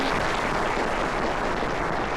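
Dense, steady applause from a large crowd fills the whole stretch, loud and continuous with no gaps, at a military appreciation Mardi Gras event aboard a Carnival cruise ship.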